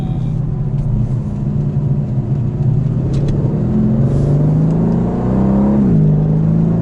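A 2020 Aston Martin DB11 V8 in Sport Plus mode revs hard with a loud, steady engine drone that climbs in pitch and briefly dips near the end, like a gear change, before pulling on.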